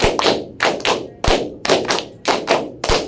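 A classroom of students claps the pattern for clap five twice in a quick patterned rhythm, bursts of sharp hand claps in short clusters separated by brief pauses, loud and close.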